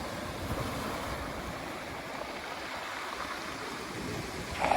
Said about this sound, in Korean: 오늘따라 파도가 멋집니다